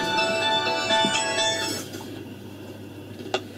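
A phone rings with an incoming call, a bright repeating tonal ringtone that sounds clearly for nearly two seconds before cutting off, leaving faint background noise and a single click.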